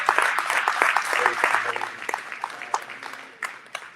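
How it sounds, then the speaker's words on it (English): An audience at a State of Black Saginaw 2025 community event claps in a full burst of applause that thins to scattered, separate claps toward the end. "Give Dr. Henry another round of applause."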